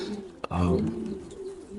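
Racing pigeons in a loft give a soft, close coo lasting about a second, preceded by a brief click, over a quiet room hum.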